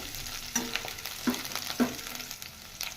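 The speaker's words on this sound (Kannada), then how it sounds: "ಈಗ ಚೆನ್ನಾಗಿ ಫ್ರೈ ಮಾಡ್ಕೋಬೇಕು" Mustard seeds, curry leaves and crushed garlic fry in hot oil, giving a steady close sizzle with a few sharper spatters and stirring scrapes, no voices.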